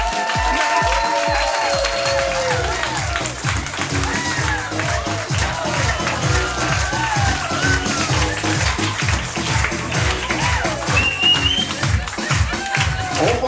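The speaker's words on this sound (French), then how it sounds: "Lorsqu'on va les nommer, on crie, on applaudit." Wedding guests clap in a strong rhythmic beat while cheering and whooping as the wedding party is welcomed. Music and voices mix in, the clapping steady and close throughout.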